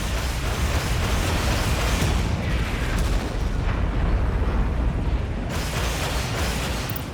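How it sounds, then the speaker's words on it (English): Artillery fire in the strategy video game Tom Clancy's EndWar, a dense, continuous roar of rumbling explosions and booms at steady loudness for several seconds, with no talk over it. "Artillery fire on our position."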